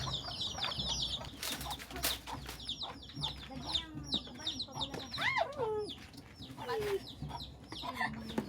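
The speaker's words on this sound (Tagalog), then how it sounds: "Sumasalubong na agad ng mga manok." Chickens cluck and squawk close by in a steady, busy chorus, with sharper bird calls and scattered chirps over the top, in a rural province setting.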